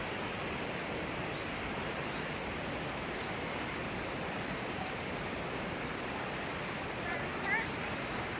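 A river flows with a steady, dense broadband rush that stays constant throughout, close and loud with no breaks.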